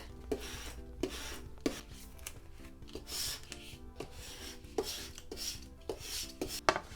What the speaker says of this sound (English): we'll give this a good scrape over, stick it onto the transfer tape